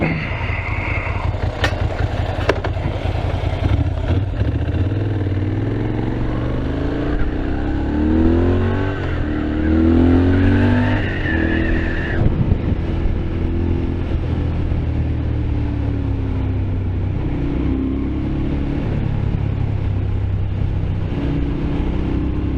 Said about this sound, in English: It's all rattly and like a proper motorbike should be.